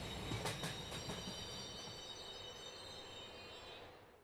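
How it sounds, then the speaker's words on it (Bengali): A train pulls into Durgapur station and brakes to a halt, its wheels giving a thin, steady metallic squeal over a low rumble that slowly dies away. The rumble is quiet and moderately distant. "ট্রেনটা দুর্গাপুরে এসে থামলো।"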